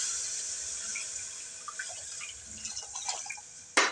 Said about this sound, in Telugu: ఇక వాటర్ యాడ్ చేద్దామండి వాటర్ ఇప్పటికి 3 కప్స్ చేసామండి ఇక 4 అండి